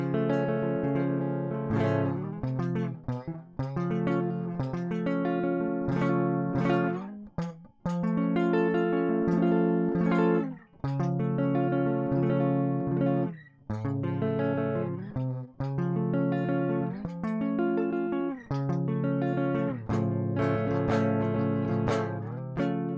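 Live electric guitar strums rhythm chords on the bottom four strings, a steady stream of dense chord hits with brief gaps between phrases, loud and close without talk.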